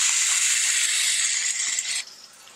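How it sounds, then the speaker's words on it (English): Food in a non-stick pan sizzles brightly and steadily, hissing loudly for about two seconds, then drops off abruptly to a faint crackle. "Get that sizzle."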